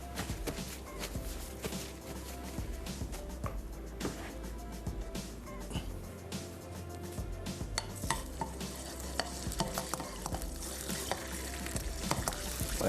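Garlic paste with crushed red chilli frying in a pan for chicken shawarma, a steady close sizzle and crackle with occasional stirring scrapes and utensil knocks throughout.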